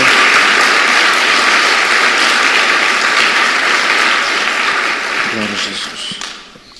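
A church congregation breaks into loud, sustained applause praising the Lord, a thick wash of clapping that holds steady before fading out toward the end, with a voice emerging briefly under it.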